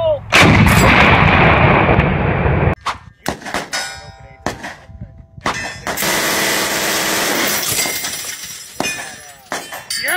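A volley of heavy WWII-era artillery guns fires in loud, close blasts: one long roaring discharge, then a series of sharp booms and metallic clangs, followed by a sustained rumbling barrage with scattered cracks.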